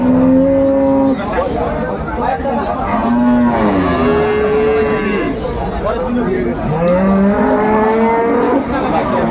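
Several cows mooing loudly close by at a cattle market in Aftabganj, Dinajpur, long lowing calls overlapping amid a busy crowd with people talking.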